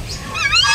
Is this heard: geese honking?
yes